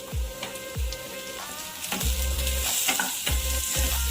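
Vegetables including carrots are stirred and fried in a pan, repeated scraping strokes of a spatula roughly every half second over a constant close sizzle.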